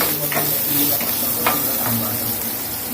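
Crushed garlic fries in hot oil while making mango dal, giving a steady sizzling hiss with a few stirring scrapes and faint kitchen clatter, close and moderately loud.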